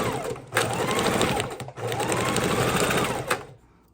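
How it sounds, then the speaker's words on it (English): A sewing machine stitches a line across the back cover of a mini junk journal, two loud close bursts of rapid needle clatter with a short pause between, fading out at the end. "I'm going to stitch a line right here"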